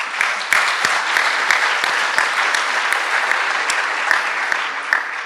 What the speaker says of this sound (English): I got to clap for that.